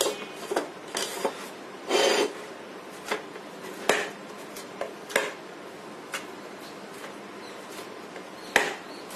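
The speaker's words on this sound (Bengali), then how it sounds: "আমি একটু হালকা গরম থাকা অবস্থায় হাত দিয়ে এভাবে ডলে নিচ্ছি।" Hands rub and knead warm semolina dough for a pitha, making soft intermittent rasping and slapping strokes at irregular intervals, close up with no voices.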